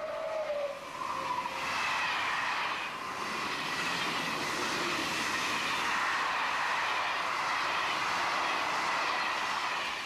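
A Belgian Class 18 electric locomotive, of French styling based on the SNCF CC 40100 class, rumbles steadily along the rails, a broad continuous roar with a rising tone near the start, loud and sustained throughout with no voices.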